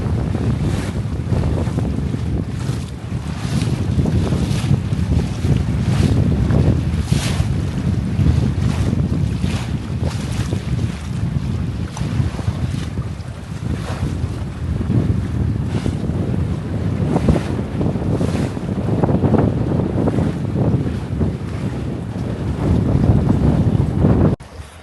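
Strong wind gusts roar across the microphone aboard a Catalina 22 sailboat sailing with one reef in the main, with water and hull noise beneath a loud, continuous rush.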